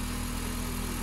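A car engine with welded exhaust manifolds idles in a steady, even rumbling drone, close and constant for about a second.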